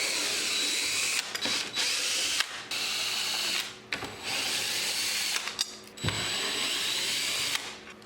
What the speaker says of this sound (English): you're going to have 1, 2, 3, 4, 5 Phillips head screws that you're going to need to take out.